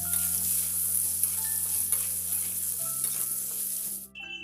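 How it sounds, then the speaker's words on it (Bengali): Pointed gourd and potato pieces frying in oil in a pan, a steady close sizzle with occasional stirring scrapes throughout, no voices. "এখন পরিমাণ মতন পটল আর আলু এই দুটো দিয়ে খানিক্ষণ লাল লাল করে ভেজে নেবো"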